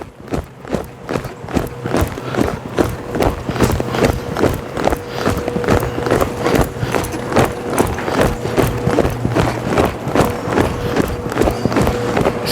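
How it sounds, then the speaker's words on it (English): A horse wearing a plain D-ring snaffle trots slowly, its hooves giving a steady, even clip-clop beat that runs throughout, loud and close on firm ground. "Let's go ahead and ask for a little bit of a slow trot."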